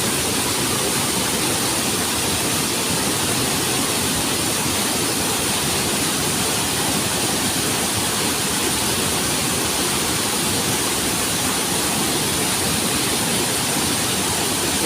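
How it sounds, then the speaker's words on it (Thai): Broad, constant rush of a waterfall pouring steadily, loud and close, with no voices or pauses throughout. "เสียงน้ำโตน"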